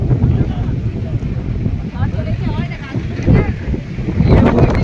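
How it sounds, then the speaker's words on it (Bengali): Storm wind roars across a boat on open water, with steady, loud gusts buffeting the microphone while people talk underneath. "ব্যাকগ্রাউন্ডের আওয়াজ শুনে আর মেঘের অবস্থা থেকে বুঝতে পারছো কত ঝড় দিচ্ছে"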